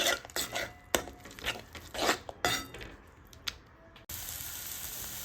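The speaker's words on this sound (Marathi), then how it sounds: "हे मसाले जे आहेत ते आपल्याला एकदम व्यवस्थित 1 मिनिटभर तेलावरती छान परतून घ्यायचे" Chhole masala spices being sautéed in oil in a pan, with repeated scraping and clinking of a spoon against the metal, followed by an even sizzle once the stirring stops.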